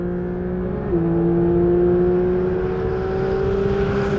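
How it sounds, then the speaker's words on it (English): A 2023 Porsche 911 GT3 RS (992) engine drones loudly and steadily, its pitch stepping down once then climbing gradually as it pulls. "Every time you listen to that engine, it's just absolutely manic."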